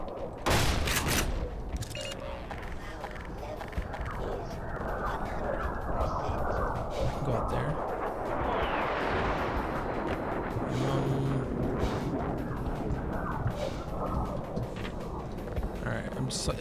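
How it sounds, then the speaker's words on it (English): Rocket launcher fire and explosions in the video game Black Mesa, a dense barrage of booming blasts and gunfire layered over music and game noise, loud and continuous throughout. "I'm gonna get out my rocket launcher right now."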